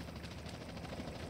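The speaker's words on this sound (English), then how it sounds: "The helicopter is following you, man." A helicopter chases the player in GTA San Andreas Definitive Edition, its steady rotor thrum and engine whine filling the scene with a faint pulsing beat, loud and continuous with no talk.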